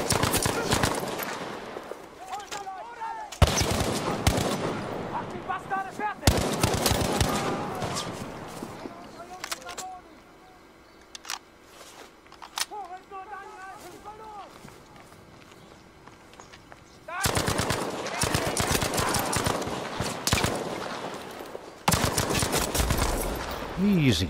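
Rapid gunfire bursts and shotgun blasts in the video game Battlefield 5, loud and dense at the start and end with a quieter stretch between, while someone talks over the action.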